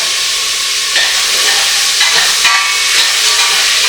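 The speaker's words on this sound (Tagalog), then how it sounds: "Tapos guys ay fry lang natin ito. Isama na natin kagad dito yung kamatis" Garlic and tomato fry in a hot pan with a loud, continuous hissing sizzle, close up, with brief surges as the food is stirred and no voices.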